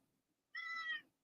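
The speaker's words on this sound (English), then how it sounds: "I think Kitty Cat's going to come and say hi" A single clear cat meow, about half a second long, rises nearby out of a quiet room with no talk over it.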